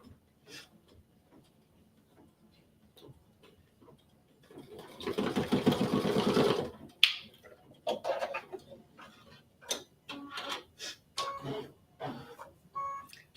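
An embroidery machine stitches a design onto cardstock in a fast, buzzing burst of rapid needle strokes, followed by irregular clicks and short mechanical bursts as stitching continues.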